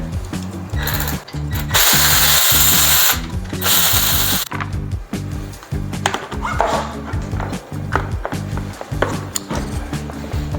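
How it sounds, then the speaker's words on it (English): Front mudguard bolts being removed on a Thumpstar TSB110 dirt bike, with loud rapid ratcheting clicks in repeated bursts, mechanical rattles and two longer harsh whirring spells near the start, close by, with no voices. "Now we're going to get the front mudguard on, so we're just going to remove the bolts underneath there."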